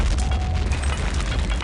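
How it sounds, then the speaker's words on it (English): A grenade explodes in the video game Return to Castle Wolfenstein. A loud, dense, rumbling boom fills the whole moment with heavy low-end roar and crackling debris, and no voices are heard. "I'm gonna grenade him."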